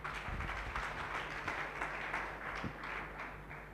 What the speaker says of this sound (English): Clap your two hands for Jesus.